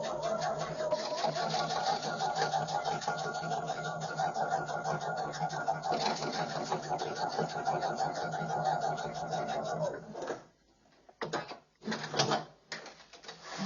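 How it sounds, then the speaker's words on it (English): A sewing machine running a normal 2.5 stitch length down one side of scrap fabric, a steady close rapid mechanical whir for about ten seconds, then a few short bursts as it stops. "just going to stitch all the way down one side"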